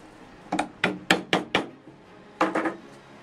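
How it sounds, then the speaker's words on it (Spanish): A hammer strikes a wood chisel while cutting square corners for book-style door hinges, giving sharp, close knocks in a quick run of five, a pause, then two or three more. "Ahora nos toca el turno hacerlo con un formón y un martillo"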